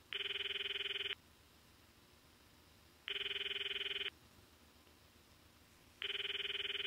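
A telephone rings in the Phantom Breaker Omnia fighting game: three loud, steady electronic ring bursts of about a second each, separated by two-second gaps of near silence, with no talking.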